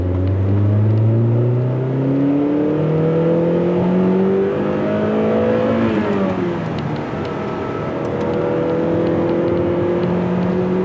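A Honda Prelude Motegi engine revs up and down repeatedly, its pitch climbing and falling in smooth sweeps, loud and close with no talking.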